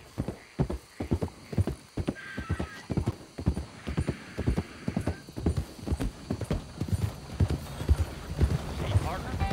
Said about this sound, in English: Hope I never have to be on that horse again.